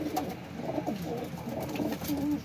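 Soft, low cooing of a black pigeon repeats in a steady, murmuring rhythm against a faint outdoor background.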